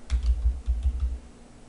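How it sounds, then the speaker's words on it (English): Keys on a computer keyboard are tapped in a quick run of about eight close, crisp clicks, then stop into quiet. "I'm going to type in Vircast"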